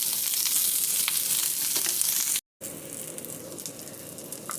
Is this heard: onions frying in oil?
yes